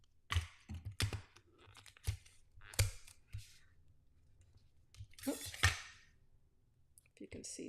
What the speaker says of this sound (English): I'm just going to tape these ends down